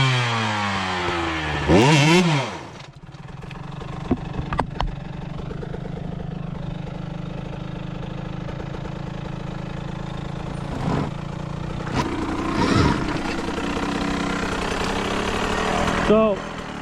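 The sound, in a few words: KTM 125XC dirt bike engine revving with clutch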